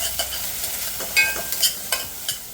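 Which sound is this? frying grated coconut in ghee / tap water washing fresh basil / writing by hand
frying grated coconut in ghee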